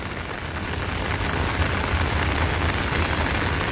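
Heavy rain pours down steadily and loudly, an unbroken dense hiss of drops drumming on surfaces close by, with no voices and no letup.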